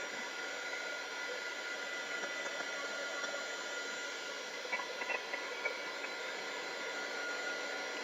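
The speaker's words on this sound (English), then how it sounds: "And the longer your hair dryer is on or your dryer," A hair dryer blows steadily, drying paint on a craft ball, giving a constant, even whooshing roar with faint small clicks partway through.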